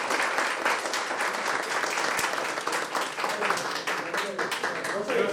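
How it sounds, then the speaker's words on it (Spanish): Sustained applause from a crowd after a university philosophy lecture, dense steady clapping filling the whole stretch at an even loudness. "el profe se merece un fuerte aplauso"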